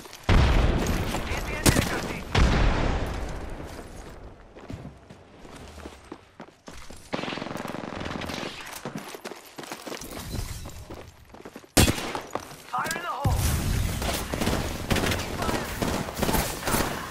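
Rapid gunfire and explosive bursts in an Apex Legends match, with clustered volleys, sharp cracks and movement sounds, loud and dense throughout, with a voice calling out over the action.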